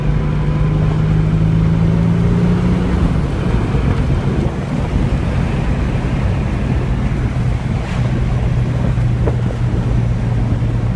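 Datsun 280Z with a stroker turbo engine and Z32 transmission under way, heard as a steady, loud roar of engine, road and wind noise throughout, with a low engine tone that drops around the third second.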